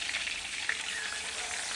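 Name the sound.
fish frying in a pan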